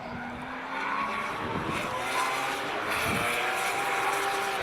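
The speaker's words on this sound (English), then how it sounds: "Certainly hear the sound of that motor looking like it was coming into the sweeper at one heck of a rate of knots" A D1NZ pro-sport drift car at Pukekohe Park Raceway roars into the sweeper at speed, its engine note sustained and loud with tyre noise blending in, heard continuously from nearby.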